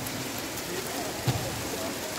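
Heavy rain falls steadily outdoors, a dense even hiss heard from a nearby shelter.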